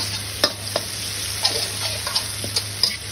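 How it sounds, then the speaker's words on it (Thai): Clams stir-fried in oil in a pan give a steady close sizzle, broken by scattered clicks and scrapes of the utensil against the pan. "ผัดน้ำมันให้หอมเลย"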